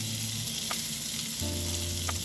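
Cut-up bacon fries in a pan, rendering down with a dense, continuous sizzle and crackle, close and steady throughout with no talking.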